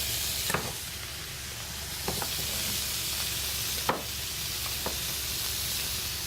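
Beef sizzles steadily in a hot pan for an Asian-style curry sauté, a continuous loud frying hiss broken by a few sharp spatter pops and scrape-like clicks, with no talking.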